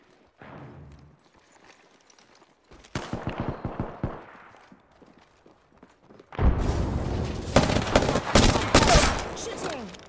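Bursts of gunfire in a battle-royale shooter game, with an SMG among the weapons: a few sharp shots early on, then a dense, loud stretch of rapid overlapping fire near the end.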